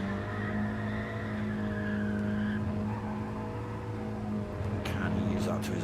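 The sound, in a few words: Mini Cooper race car sliding sideways on track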